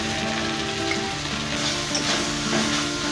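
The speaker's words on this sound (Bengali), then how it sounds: "আমি মশলাটা কষে নেব" Masala of salt, turmeric and ground cumin sautéing in a little oil for spinach chicken, a steady close sizzle and fry with faint stirring throughout, no talking.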